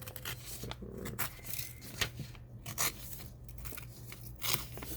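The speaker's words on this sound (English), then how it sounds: "I'm just going to cut off this part here" Scissors snip through a folded sheet of paper in a kitchen, giving a run of crisp, close cutting crunches with short pauses between strokes and no talking.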